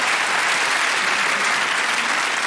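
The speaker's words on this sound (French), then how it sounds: "on peut l'applaudir" A TV studio audience breaks into applause, a loud, dense and uniform roar of clapping hands that runs without pause for the full few seconds.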